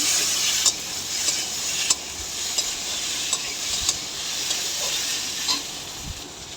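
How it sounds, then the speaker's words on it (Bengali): Chillies fry in oil in a pan, a steady close sizzle and hiss, with regular light scraping knocks of a spatula stirring them. "দেখো নাড়িয়ে চাড়িয়ে ভেজে নিলাম"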